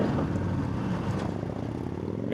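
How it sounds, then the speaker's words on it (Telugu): A Harley-Davidson motorcycle rumbles with a deep, steady exhaust drone on a night highway ride, mixed with wind buffeting the microphone. "Harley Davidson bike"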